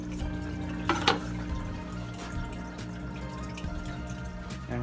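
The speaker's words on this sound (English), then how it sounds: "I gotta add a little bit more water." Water trickles and splashes into a fish tank holding live bluegill, a steady soft running flow with a couple of louder splashes near the start.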